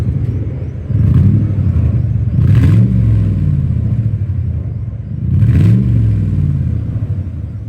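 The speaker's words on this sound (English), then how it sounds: "it's probably one of the loudest ones out there right now because of the massive exhaust leak" A 2008 Lincoln Town Car, a former New York City livery taxi, idles loud with a massive exhaust leak, its engine blipped and revved twice in a rough, rumbling, close-up burst without any talking.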